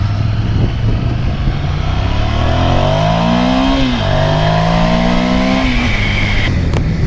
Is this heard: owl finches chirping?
no